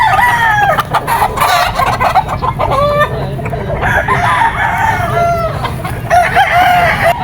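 Gamefowl roosters at a game farm crow repeatedly and overlap one another, loud and close, with clucking and other birds in a busy farmyard background.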